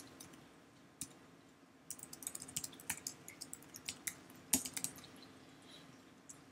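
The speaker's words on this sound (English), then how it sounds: "So I will type it in." Fingers type on a computer keyboard, a quiet, close patter of irregular key clicks, with one isolated press before a steady run of taps.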